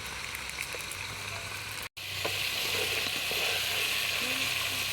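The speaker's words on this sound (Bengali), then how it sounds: "চিকেন কিভাবে ফ্রাই করে এরা দেখতে আসছে" Chicken fries in hot oil with a steady, bright sizzle and crackle that runs throughout. The sound breaks off briefly for a moment, then comes back slightly louder.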